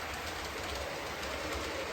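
A model train rolls around a loop steadily with a soft, continuous rumble and light rail clatter, fairly quiet and close by.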